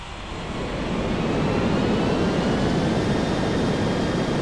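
An airliner landing on runway 18 at Rocky Mountains Regional Airport, a loud steady roar of engine and rushing air that swells in over the first second and then holds, close and unbroken.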